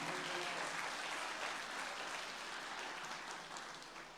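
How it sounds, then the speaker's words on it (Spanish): A church congregation bursts into steady, dense applause that fills the space, loud and sustained before easing off slightly toward the end, with no voices over it. "Aplauda al Señor si quiere aplaudir"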